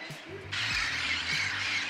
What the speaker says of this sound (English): you'll be serenaded by the hundreds or maybe thousands of parrots that linger around the Macro Plaza